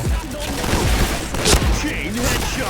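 Rapid gunfire from a Point Blank first-person shooter match, bursts of shots and impacts running throughout at steady loudness, mixed with game sounds and overlapping voices.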